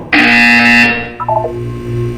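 A loud, harsh electronic buzzer from Portal 2 sounds once for just under a second, followed by a few softer synthetic beeps over a low hum.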